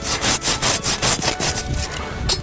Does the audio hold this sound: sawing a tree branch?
yes